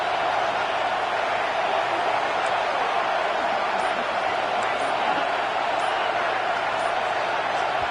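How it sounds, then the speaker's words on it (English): Loud football stadium crowd roars in a steady, dense wash of cheering and noise that holds at full level throughout. "And with this place rocking, the crowd forces a false start."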